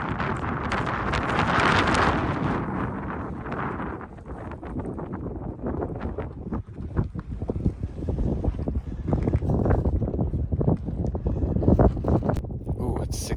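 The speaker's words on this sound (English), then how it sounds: "it was very windy last night and cold" Gusty wind buffets the microphone at a lakeside campsite at night, with rushing surges and low rumbling bursts that rise and fall, loud and close throughout.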